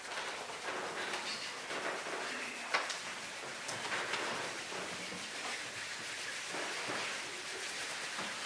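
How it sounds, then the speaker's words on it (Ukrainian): Steady soft patter of rain, light and continuous, with a faint rumbling hiss beneath it and no voices. "Почулися перші капельки дощу."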